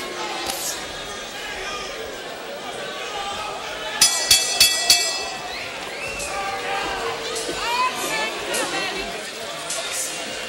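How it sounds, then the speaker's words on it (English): Arena crowd at a boxing match between rounds, a steady murmuring hubbub with scattered shouts and a few sharp bursts, a commentator talking over it. "Crowd getting a little restless"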